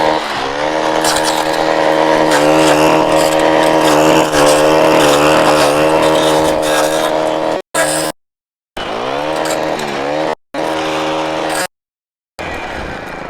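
Gas-powered Stihl kombi engine running a brush cutter through small brush under an inch thick, a loud steady whine with rising and falling revs, cutting out several times near the end.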